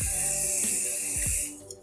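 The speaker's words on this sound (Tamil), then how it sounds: "இந்த பேப்பரில் நம்ம இப்போ அந்த ஸ்ப்ரே அடிக்கலாம்." Body spray from an aerosol can hisses in one steady burst onto a sheet of paper, loud and close, for about a second and a half before cutting off.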